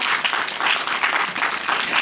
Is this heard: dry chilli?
no